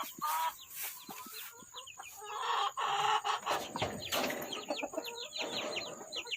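Backyard chickens cluck busily and a rooster crows on a small rural plot in Malaysia, close and lively, with layered overlapping calls and short scratchy bursts across the whole stretch.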